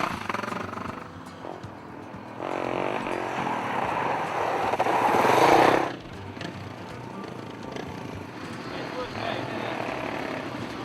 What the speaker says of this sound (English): it's back on the bikes to continue the afternoon's riding for day 3